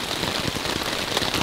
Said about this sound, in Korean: 지금 여기서 빗방울이 다 떨어져가지고 이 텐트 밑으로 다 튀겨 들어가거든요